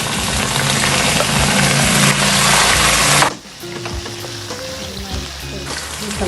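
Chicken pieces tossed into hot oil with browned onions for a chicken pulao, giving a loud, dense sizzle that fills the first three seconds before dropping to a quieter, steady frying hiss with faint clinks.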